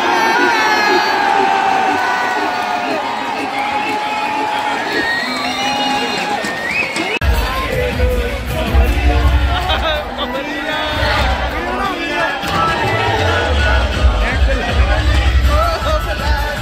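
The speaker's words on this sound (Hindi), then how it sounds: "आजाद हिंद ग्रुप के लिए एक बार जोरदार तालियां हो जाए।" A kabaddi stadium crowd during a Bengaluru Bulls vs Puneri Paltan match cheers and shouts, starting as a thinner mix of voices and swelling into a loud, dense roar of cheering and chatter partway through.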